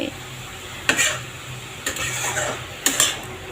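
Three sharp metallic scrapes of a utensil against a wok while stirring gourd leaves and chickpeas, at roughly one-second intervals, over a steady low background hiss.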